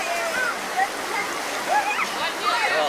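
Water rushing and splashing on a water ride as people ride down it, a steady hissing wash with high whistling or squealing voices rising faintly above it at intervals.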